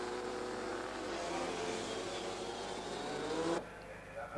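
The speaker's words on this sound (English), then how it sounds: "The carts come up to the start" Several 197cc racing kart engines buzz together in a loud, continuous high-pitched drone as they roll up to the start, the pack noise cutting off sharply near the end.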